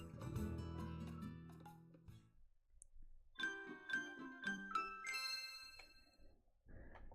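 A short chiming jingle from the video game Pokemon Eclipse plays when resting, with bright ringing tones that pause briefly and then resume in a quick tinkling melody.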